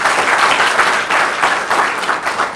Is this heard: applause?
yes